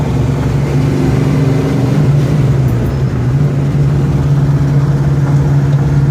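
A 1971 Dodge Super Bee with a 440 dual-quad V8 and 4-speed runs steadily on a test drive, its low, even engine drone holding continuously throughout, loud and close with no talk over it.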